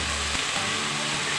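Cauliflower, potato and peas frying in oil for aloo gobi, giving a steady close sizzle that runs the whole time after a brief low thump at the start.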